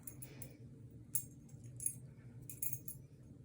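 Keys strung on a homemade wind chime clink and jangle against a heavier banging piece, light metallic chimes in a few scattered bursts.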